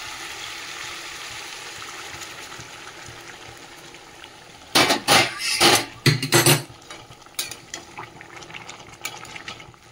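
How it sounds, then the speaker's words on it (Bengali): Hot water pours into a pot of braised, oil-released meat, a loud splashing burst of a couple of seconds standing out above a steady hiss of cooking. "এবারে জল দিয়ে দেবো, যেখানে গরম জল করে রেখেছি বেশি করে"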